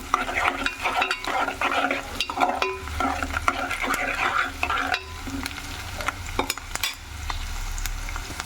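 Sliced onions and a sprig of curry leaves frying in oil for potato curry, stirred with frequent clicking utensil scrapes over a continuous crackling sizzle, close up with no one speaking.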